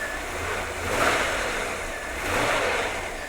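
Engine of an abandoned Chevrolet police car idling with a rusty belt, a steady mid-pitched running drone that swells gently twice, heard up close with no talk over it.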